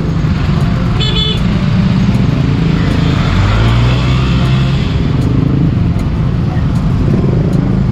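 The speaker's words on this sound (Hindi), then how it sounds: "रश काफ़ी है, ट्रैफिक 2 तरफ से आ रही है।" Busy two-way road traffic beside a row of shops near a wedding venue in Puncak, Bogor, Indonesia: a steady close rumble of passing cars and motorbikes with a brief horn toot, under a voice.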